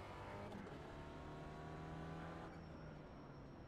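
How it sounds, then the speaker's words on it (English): A race car in a sim racing game at Sebring closes in with a steady engine drone that swells slightly, then eases as the pitch shifts, heard faint and continuous with no voices. "Take care, there's a car approaching."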